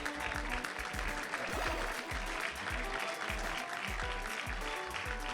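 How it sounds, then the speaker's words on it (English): An audience of hundreds claps at a Classic Tetris World Championship match, a dense, steady round of applause that holds throughout. "give him a round of applause"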